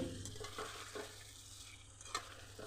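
Thinly cut potatoes are stirred gently into fried spices in a pan for a Bengali mourola fish dish, giving soft scraping strokes over a faint, steady sizzle.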